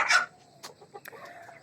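Tiger breed chickens, about three months old and weighing around 1.5 to 2 kg, give a loud close cluck followed by softer, scattered clucks and calls.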